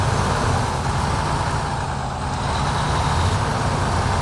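A truck grinds off-road in SnowRunner, its engine droning loud and steady with a low rumble and rough mechanical texture throughout.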